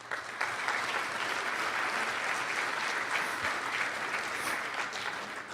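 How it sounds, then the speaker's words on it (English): Award recipients at an environmental plenary receive a sustained round of applause from a large audience, a dense steady clapping that holds for several seconds, with no talking over it. "So these people also deserve a round of applause."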